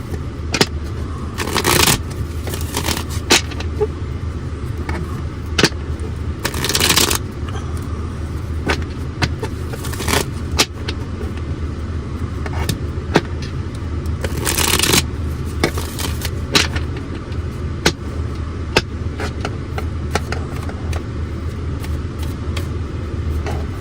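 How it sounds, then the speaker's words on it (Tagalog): A deck of cards is shuffled for a card reading, heard close up as repeated riffling bursts with soft handling scrapes between them, and no voices. "Pili po tayo ng cards. Balasahin muna po natin."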